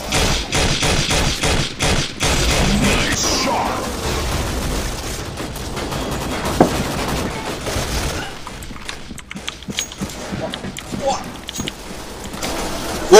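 Heavy sniper rifle fire in a hide-and-seek and zombie mode shooter game, a dense loud barrage of shots and thuds under excited talk from a player.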